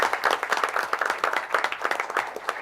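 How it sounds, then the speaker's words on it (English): A room of attendees at a school board of education meeting gives steady, moderately close applause for families being recognized, with brief faint voices underneath. "So big round of applause for the families as well."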